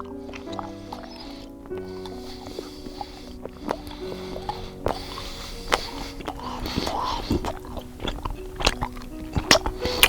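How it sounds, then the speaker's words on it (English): Candy wax being chewed up close after the juice is drunk, giving wet, irregular smacking and squishing bursts that grow busier and louder toward the end, with no talking. "Now I chew the wax."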